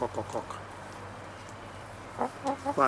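Three hens in a garden near a kitchen cluck in short, close bursts of rapid chattering calls at the start and again toward the end, separated by a quiet stretch.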